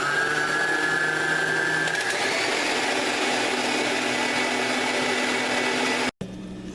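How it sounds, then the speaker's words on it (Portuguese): An electric stand mixer beating room-temperature eggs for a sponge cake whirs steadily and loudly, its motor pitch shifting once early on before the machine abruptly cuts off near the end. "Então eu vou ligar aqui a batedeira,"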